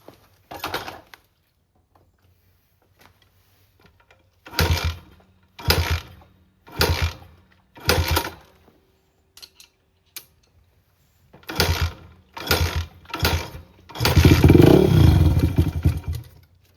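A Honda XR100 dirt bike is repeatedly kicked over, giving short mechanical bursts separated by silence, before the engine catches and runs briefly with a louder sustained rattle at the end.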